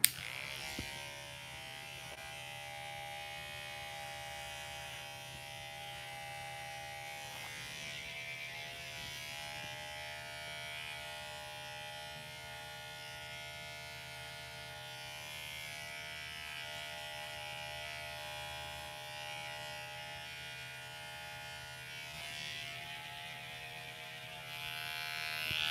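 Electric hair clippers fitted with a number 1 guard buzz steadily through hair during a self-haircut, a faint continuous hum with slight shifts in tone as they move, no talking.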